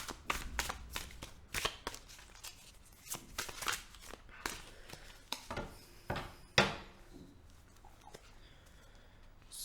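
Tarot cards handled and laid out for a reading: a steady run of crisp, close slaps, flicks and shuffling rustles in irregular bursts, with one sharper snap near the end, heard alone without talk.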